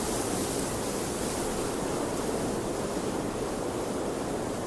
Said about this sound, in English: Massive waves shook the Adriatic coast of the Balkans, and strong winds tore down trees and roofs.